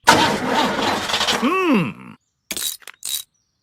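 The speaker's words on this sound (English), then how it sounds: "Try the engine." A cartoon car engine in Peppa Pig sputters and groans loudly with wobbling, whining tones, then cuts out, followed by a few short, sharp mechanical bursts.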